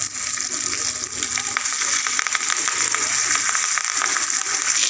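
Tomato sautés with turmeric, cumin, salt and curry leaves in a pan, giving a loud, continuous sizzle and fry with occasional scraping stirs close by and no speech.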